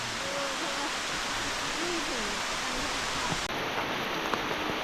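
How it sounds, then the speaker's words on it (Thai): Rain falls steadily on a forest hiking trail at Khao Yai in Thailand, a dense, even hiss that continues without a break and with no clear individual drops. "ดูฝนตก"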